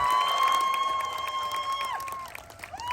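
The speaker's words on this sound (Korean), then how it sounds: "이럴 때 박수 한번 하면 다시 한번 박수!" An outdoor audience at a youth trot song festival in Jeju claps and cheers, a brief dense wash of applause with a few whoops, while a voice carries over the top and then fades.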